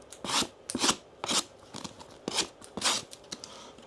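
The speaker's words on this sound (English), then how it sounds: "Let's try it with a book. Let's make some slices." An SRM 251MB pocket knife slices through a book with a series of short, crisp cutting and rasping strokes, fairly quiet and close, about seven bursts with brief pauses between them.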